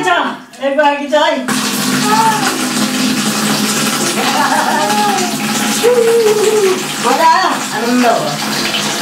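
Water pours steadily into a container from a tap, a constant rushing splash that runs throughout, while children talk and laugh over it.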